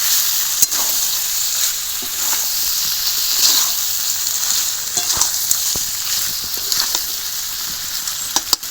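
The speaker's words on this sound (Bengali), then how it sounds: "এবার ভেজে রাখা আলুও দিয়ে দিলাম এবার ভালো করে আরও দশ মিনিট মতো কষাবো" Chicken curry with fried potatoes sautés in a pan, giving a steady loud sizzle and hiss with scattered sharp clicks and scrapes from stirring.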